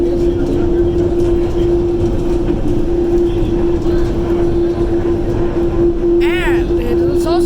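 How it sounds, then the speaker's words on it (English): The airport terminal train at Dallas DFW rumbles loudly and steadily along its track, a constant drone with a sustained hum, and a brief squeal rises near the end; very near and dominant throughout. "This train is very loud."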